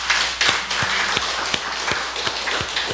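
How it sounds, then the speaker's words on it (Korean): A church congregation applauds during a Sunday service, a dense steady wash of many hands clapping together, fairly close and loud, with no talking over it. "더 잘하라고 우리 박수 한번 해줄까요?"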